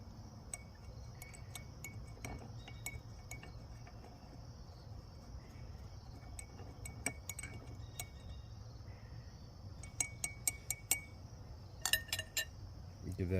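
Liquid stirred in a glass container during a metal-refining process gives light, scattered clinks and taps against the glass, growing busier toward the end over a steady high insect-like hiss and low hum.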